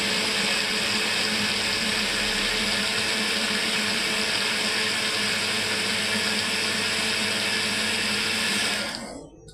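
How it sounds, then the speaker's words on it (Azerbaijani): Blender pureeing boiled tomato, onion and garlic, a loud steady high-pitched motor whir that runs evenly for several seconds, then winds down and stops at the end. "Bunu da blenderdan keçir."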